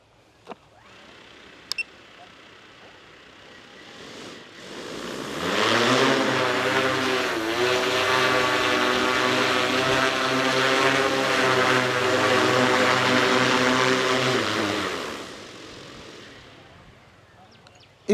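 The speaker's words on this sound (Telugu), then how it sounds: "ఈ డ్రోన్ని చాలా ఈజీగా మనం ఆపరేట్ చేసుకోవచ్చు, ఈజీగా ఫ్లై చేసుకోవచ్చు అండి" An agricultural seed-sowing drone spools up with a faint click, then its propellers whine loud and steady for about ten seconds, with the pitch dipping briefly, before it winds down to quiet in the open field.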